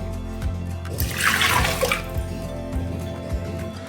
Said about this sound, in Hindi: उसमें सारे दाल डाल देंगे और इसी बाउल से 1 बाउल पानी डालेंगे